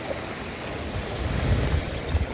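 Swollen river in flood rushing past, a steady broad roar of churning water with low rumbling surges and wind buffeting, continuous and fairly close with no voices.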